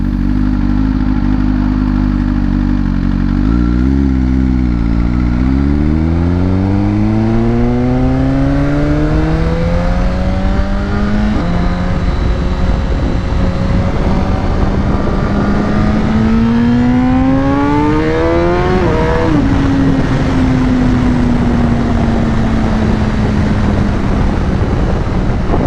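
Motorcycle ridden in the morning, its engine loud and close as it revs and accelerates through rising gear pulls, with wind noise throughout and no talk.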